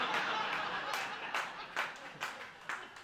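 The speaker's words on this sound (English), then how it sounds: "I don't know why you're clapping" A comedy audience at a stand-up charity night claps for a politician comedian, scattered claps building into a few sharper bursts, distant and moderately soft, mixed with faint chuckles.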